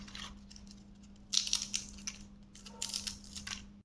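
Crispy homemade fried potato chips crunch in close, irregular bursts, sharp crackling snaps arriving in two clusters over a low steady hum.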